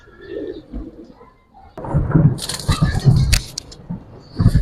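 Soft Giribaz high-flyer pigeon coos sound close by, followed by rustling and fluttering noises with a few sharp clicks.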